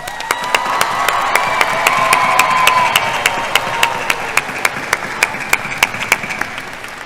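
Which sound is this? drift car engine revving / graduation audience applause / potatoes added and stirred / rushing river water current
graduation audience applause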